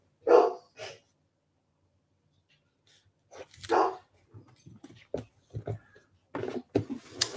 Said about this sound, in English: He's getting excited about the female dog, probably.